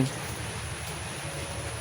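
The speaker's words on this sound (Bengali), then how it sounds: "দেখতে পাচ্ছেন আজকে 2 দিন যাবৎ অজস্র বৃষ্টি হচ্ছে" Heavy, steady rain pouring for a second day in Gazipur, a constant broadband hiss at even loudness throughout, with no clear voices.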